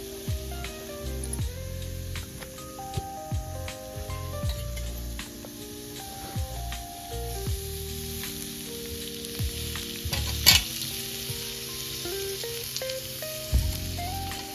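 Onion fries in oil for a chicken masala cooked over a wood-fired stove, giving a constant loud sizzle with frequent sharp pops and crackles close by, while a steady tonal hum runs underneath; no voices.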